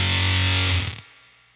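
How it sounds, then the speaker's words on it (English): Electric guitar through a Beetronics Swarm fuzz pedal: one loud, thick, distorted chord rings for about a second, then cuts off into a fading tail. "I've got a normal sounding fuzz sound there"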